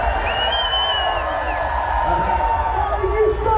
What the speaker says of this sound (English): give me a cheer if you are ready for 2023 Secret Garden Party Paint Fight